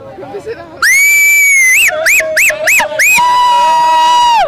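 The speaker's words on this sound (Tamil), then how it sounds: "தோனிக்கு ஒரு விசில் அடிச்சலாமா?" Cricket fans at a Chennai Super Kings win over Kings XI Punjab let out loud, shrill whistles for MS Dhoni: one long sustained blast, then a run of short rhythmic bursts and a final held whistle, after a few faint voices.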